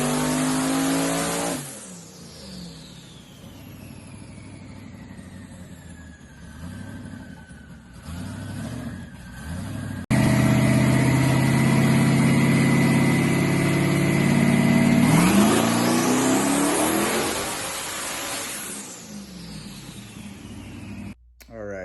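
A twin-turbo Chevrolet S10 truck on old radial tires runs on a chassis dyno, its engine idling and then revving hard in long sweeping pulls that rise and fall, loud and close, with brief pauses between runs.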